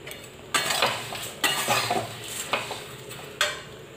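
Flattened rice being stirred and fried in a pan, with four or five distinct scraping, clinking strokes of a spoon against metal over a faint background sizzle.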